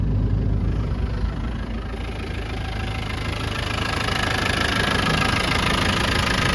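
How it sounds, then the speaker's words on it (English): The 200Tdi diesel engine of a 1991 Land Rover Defender 90 idles steadily close by, a continuous rumbling clatter with no talking. "Very smooth running engine."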